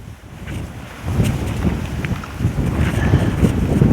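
Strong, hurricane-like wind blowing outdoors near a homestead, a loud continuous roar buffeting the microphone with gusts that swell stronger toward the end, no voices.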